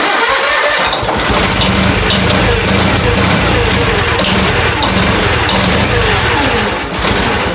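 A John Deere 317 tractor engine running rough on starting fluid, loud and close, with a steady uneven roar and sputter that starts right after a brief quieter moment.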